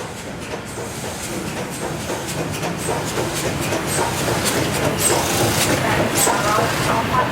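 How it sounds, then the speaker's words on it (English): A2 class steam locomotive hauling a charter train south of Tullarook toward Broadford, passing with rising rumble, rhythmic chuffing and wheel clatter over the rails, growing louder and nearer. "We greet the train south of Tullarook as the A2 storms towards Broadford."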